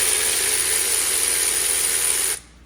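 A wrench works loose a tight 13 mm bolt on a transmission cooler line bracket, near a ZF 8HP70 transmission. Rapid continuous clicking runs close and steady, then stops abruptly.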